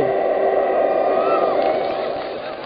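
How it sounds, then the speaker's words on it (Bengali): A live comedy show audience shouts and cheers on cue, a dense, sustained roar of many voices that slowly fades toward the end. "চিল্লাচ্ছে দেখো।"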